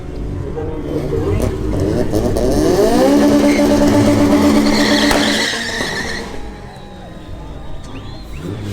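A Mk2 GTS with a 2.0 16v turbo engine launches on a drag run, its engine rising loud and close through the gears with tire noise before fading as it pulls away; voices are faintly present.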